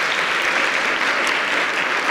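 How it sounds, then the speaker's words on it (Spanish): Loud, dense applause fills a hall at a university student awards ceremony, a continuous roar of many hands clapping at once with no pauses. "Démosle un aplauso,"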